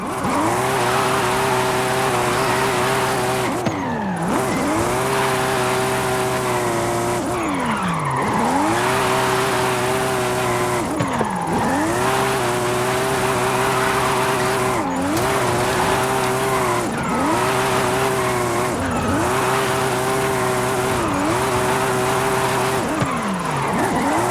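A high-powered car in Forza Horizon 5 drifting through long sustained slides, its tires squealing steadily over a strained, revving engine, with brief dips in pitch every few seconds between drift transitions.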